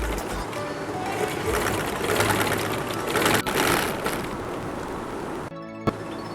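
A sewing machine stitches trousers in a steady, fast mechanical whir, close and continuous, stopping near the end with a brief click.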